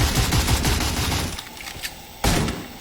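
Rapid gunfire in the Free Fire battle royale game, with dense bursts of automatic shots, then a quieter pause and a sudden fresh burst, loud and close.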